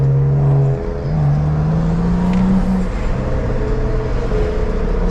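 Big-turbo BMW 440i on a fresh E30 tune heard from inside while driving, a loud steady engine drone with a rising tone, a brief dip suggesting a gear change, then continued acceleration.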